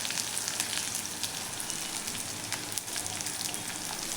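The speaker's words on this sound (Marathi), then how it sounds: "कांदा आपण छान असा गॅस बारीक केलेला आहे, बारीक गॅसवरती छान असा परतून घ्यायचा आहे" Chopped onions frying over low gas in a hot kadai, a continuous soft crackling sizzle with scattered pops, steady and close, with no talking.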